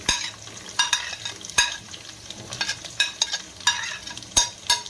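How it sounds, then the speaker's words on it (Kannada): Onions frying with curry leaves in a pan over low flame sizzle steadily, broken by repeated sharp scraping strokes of a spoon stirring, with no talk. "ಈರುಳ್ಳಿನ ಹಾಕೊಂಡು ಚೆನ್ನಾಗಿ ಫ್ರೈ ಮಾಡಬೇಕು."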